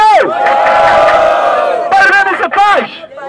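Crowd at a 2017 São Gonçalo street rap battle erupts in loud cheering, whooping and shouting, a sustained roar of many voices with bursts of yells near the end.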